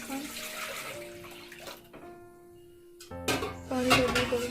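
Water is poured into a cooking pot set on a lit gas stove while preparing a no-onion, no-garlic sour mango curry with home-grown beans; a running, splashing pour comes close and fairly loud, with brief pauses and clinks between.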